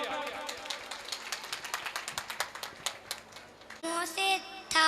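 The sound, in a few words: audience applause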